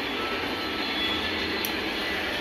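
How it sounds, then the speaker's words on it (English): A small motorized propeller spinning on a model Cessna airplane on a train layout, giving a steady high whirring buzz that holds evenly throughout and sounds close by. "It's got motor in it, the prop turns is like this"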